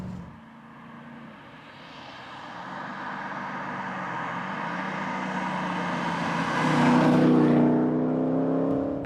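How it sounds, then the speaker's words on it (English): A rebuilt BMW E39 535i engine accelerates hard, its smooth tone climbing steadily in pitch and growing louder over several seconds before a shift near the end, with no talking. "Now, I believe this has had an engine rebuild. It certainly sounds very, very fit."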